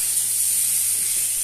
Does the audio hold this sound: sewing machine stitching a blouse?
no